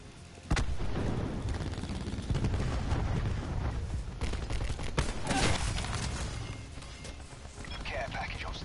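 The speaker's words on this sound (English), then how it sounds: "Sentry firing." A sentry gun fires in a PS4 shooter match, a dense, loud, continuous burst of automatic gunfire with explosions. It starts abruptly and runs throughout, mixed with game voice callouts.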